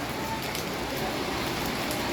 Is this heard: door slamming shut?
no